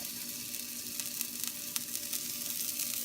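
Fish fries in hot oil, a steady, fairly soft crackling sizzle with small pops throughout, heard alone without talk.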